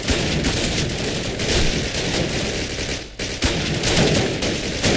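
Dense, rapid bursts of automatic gunfire in Call of Duty rattle almost continuously, with a brief gap before the firing resumes; close and loud, with no talking.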